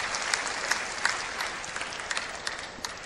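Audience applauding a winning shot at a men's singles badminton semi-final at the 2009 Hong Kong Open, steady clapping with a few louder claps standing out, fairly close.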